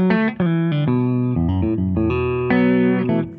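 A PRS Private Stock Modern Eagle V Limited electric guitar plays a short clean phrase through its bridge and neck humbuckers, a run of clear sustained notes and chords ringing out alone.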